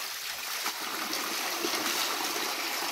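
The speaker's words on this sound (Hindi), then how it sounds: "ये अंदर से पूरा पानी आ रहा है" Spring water flowing out of the ground in a dense forest, a steady broadband rushing and trickling stream that continues evenly and fairly close, with small splashes and no voices.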